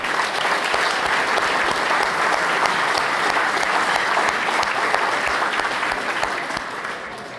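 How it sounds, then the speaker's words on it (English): Loud, sustained applause from a large audience at an annual awards dinner, a dense steady patter of many hands that eases slightly toward the end, with no speech over it. "Please, a round of applause for all law enforcement."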